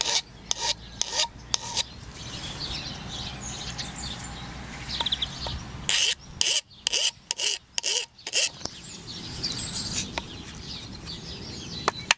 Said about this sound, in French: Aiguisez votre ciseau à bois grâce à une lime fine